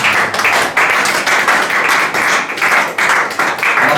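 A church congregation claps and applauds at a worship service, a dense, steady wash of many hands filling the room with rhythmic surges throughout, loud and close with no talking over it.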